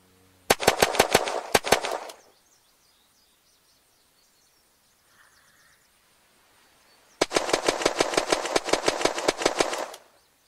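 Pistol fire from the Luger in the game Unturned: two loud bursts of rapid, evenly spaced shots, a short one near the start and a longer one near the end, with near silence between them.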